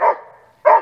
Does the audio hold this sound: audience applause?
no